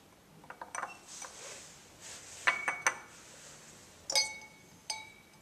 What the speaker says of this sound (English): first thing I'm going to do is to put my substrate into our boiling tube